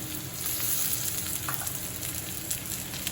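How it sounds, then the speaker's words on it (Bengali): Fried potatoes go into a pan of onion and garlic already browned in oil, making a continuous soft crackling sizzle with faint stirring, close by and fairly quiet. "রসুন আর পেঁয়াজ কিন্তু ভালো করে ভেজে নিয়ে নিয়েছি। এইরকম অবস্থায় আমি দিয়ে দেব ভাজা আলুগুলো"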